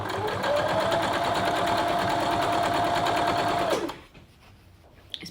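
A sewing machine stitching a bright Colorado quilt block runs in a fast, even whir for nearly four seconds, then stops abruptly, leaving a quiet room with a small click.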